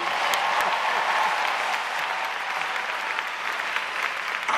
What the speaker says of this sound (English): Let all the careful people clap in here.